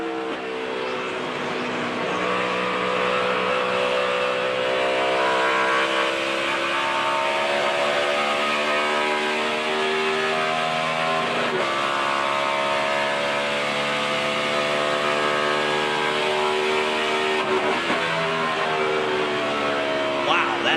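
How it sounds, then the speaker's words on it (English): Onboard a NASCAR race car at the 2011 5-Hour Energy 500, the engine roars steadily close-up, its pitch climbing through revs and dropping sharply at downshifts roughly every few seconds over about twenty seconds. "That's a downshift."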